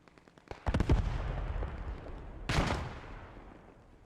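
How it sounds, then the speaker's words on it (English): Two heavy booms of artillery fire in a video game, each followed by a long rolling rumble that slowly dies away, with faint crackles before the first. "I can hear artillery."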